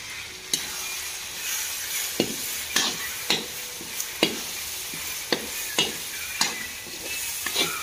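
Spoon or spatula scraping and stirring chicken with coriander, chili and turmeric powder and salt in a frying pan, a dozen sharp clanks over a steady sizzle, close and alone with no talk.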